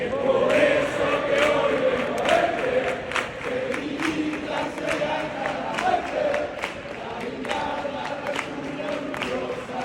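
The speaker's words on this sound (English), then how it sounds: "the team has an anthem they sing beforehand" Sevilla football fans singing the team anthem before a match, a large crowd chorus swelling and echoing in the stadium, with rhythmic claps scattered through the singing.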